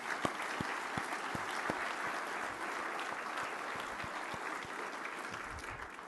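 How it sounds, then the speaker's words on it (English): An audience at a citizenship cup award ceremony applauds steadily, a dense wash of clapping with a few louder individual claps standing out near the front, sustained at an even level throughout. "Just please give her a hand of applause."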